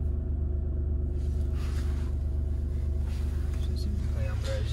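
A Skoda Octavia with a 1.2 turbo diesel, 75 hp Greenline, runs with a steady low rumble close by, its even throb continuing under quiet voices.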